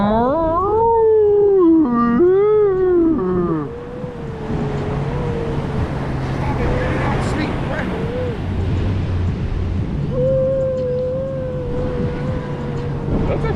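A man imitates an orca whale call with his voice on an Outer Banks beach while surf fishing, a wavering rising-and-falling whistle repeated several times, close and loud, with surf rumble and other voices around it.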